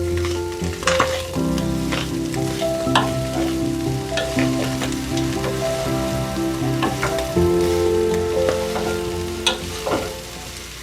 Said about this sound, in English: the reason I fry the meat first